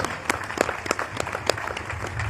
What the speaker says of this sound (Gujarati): તેમને આપણે તાળીઓના ગડગડાટથી